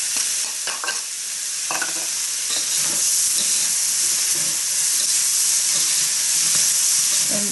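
Smoked ham hock fries in a pan for fried rice, with steady loud sizzling and hiss under repeated scraping stirs, close up with no voices.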